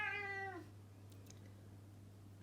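A cat gives one short, clear meow up close in a quiet room, followed by soft background hum and silence.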